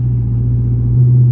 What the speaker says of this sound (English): Cold start, and then take it on for a little drive.